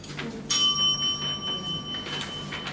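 A single debate timing bell rings once, a bright metallic strike with a clear ringing tone that decays over about two seconds, fairly close, with faint room noise around it.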